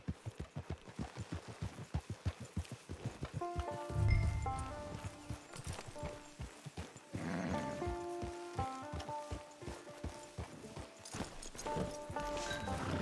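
Horse hooves clip-clop in Red Dead Online, a steady near rhythm of hoofbeats over light rain, with a soft musical score rising underneath.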